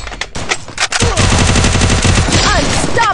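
Gunfire in the mobile battle-royale game Garena Free Fire: a few scattered shots, then loud, sustained automatic fire rattling rapidly and continuously, close and dominant, with faint game effects layered in.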